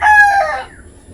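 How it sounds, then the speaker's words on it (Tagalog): A rooster crows loud and close in a single short call that trails off quickly, heard at a livestock setting in Santo Tomas, Batangas. "May manok pala dahil?"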